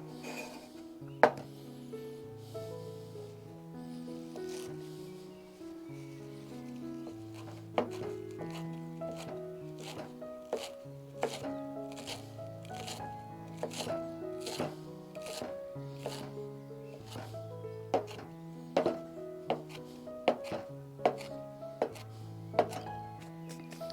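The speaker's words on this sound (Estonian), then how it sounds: "ma tükeldan kohe ka peterselli ära" Parsley being chopped with a knife on a board while cooking shrimp with chili and garlic outdoors, a run of quick, crisp, close-up knife taps repeating steadily over a soft background hum.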